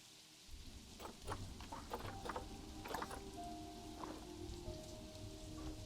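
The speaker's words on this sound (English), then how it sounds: "This soundtrack, first with the rain" Steady rain pattering in the Planet Zoo video game soundtrack, a constant soft wash of drops with a few brief musical tones layered over it.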